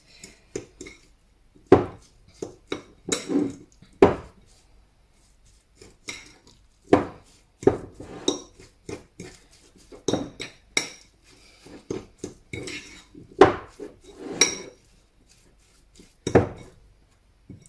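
Ingredients for Dutch Easter bread are stirred in a bowl, with sharp, irregular clinks and knocks of a utensil against the bowl between short quiet gaps, close up.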